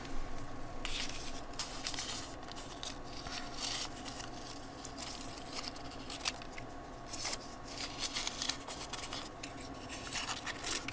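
Paper being cut with scissors at a desk while a pencil tube prototype is decorated, giving steady close snipping and scratchy rustling throughout with no talking.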